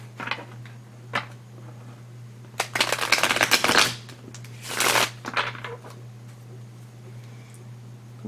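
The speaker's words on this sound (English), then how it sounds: "we're going to shuffle this" Tarot cards shuffled by hand, a few soft riffles and taps followed by two longer, louder bursts of rapid card flicking over a low steady hum.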